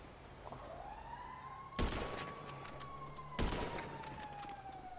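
Sniper rifle gunshots in a video game: two loud, sharp blasts about a second and a half apart, cutting over a steady electronic hum and a long rising-then-falling tone.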